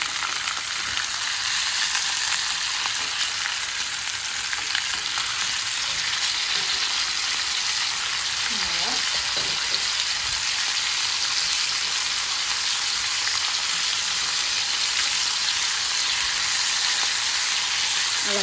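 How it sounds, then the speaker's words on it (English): A porterhouse steak sizzles loudly and steadily in a pan over high heat, a dense, continuous frying hiss throughout with no talking. "I like to press it down just so I make sure it's getting on that high heat"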